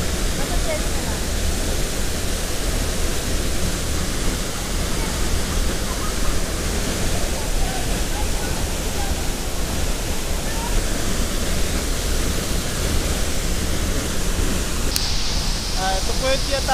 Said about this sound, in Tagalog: Ito po yung tinatawag nilang Tuasan Falls.